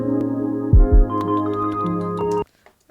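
A kick drum with reverb added thumps within a beat, deep booming hits ringing out over sustained tonal layers before the music cuts off abruptly near the end.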